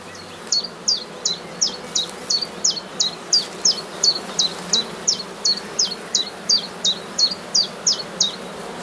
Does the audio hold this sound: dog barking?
no